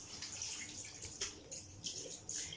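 Clear water splashes and trickles in soft, uneven bursts as a face is rinsed, with a few brighter splashes standing out against a quiet, close background.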